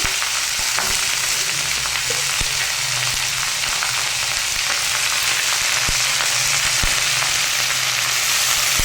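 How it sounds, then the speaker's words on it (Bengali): Ginger and panch phoron five-spice sizzling in hot oil for a vegetarian banana-flower and vegetable dish, a steady close crackle with occasional sharp pops and stirring scrapes, no voices. "আদা আর পাঁচফোড়ন তেলে দেওয়াতে খুব সুন্দর একটা সেন্ট বেরিয়েছে এটাকে আমি এখন একটু হালকা ভাজা ভাজা করে নেবো"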